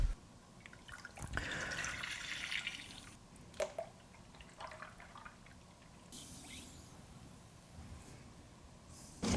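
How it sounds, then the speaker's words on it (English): Liquids for honey pistachio gelato are poured into a pan in a quiet kitchen, a soft trickle and splash with a few drips and light knocks from the containers. "what we need to do is get our liquids measured into a pan and just get them warming up"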